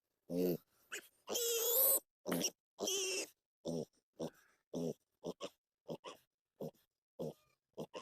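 Three-breed F1 hybrid piglets grunting close by: a rapid series of short, separate grunts with a few longer, harsher squeals near the start, each burst followed by brief quiet.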